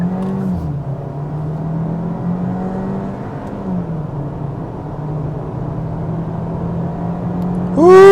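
A 2025 Hyundai Kona Limited AWD with a gas engine accelerates at full throttle, a steady engine drone rising and easing through gear changes inside the cabin, loud and continuous, with a brief sharper tonal swell near the end.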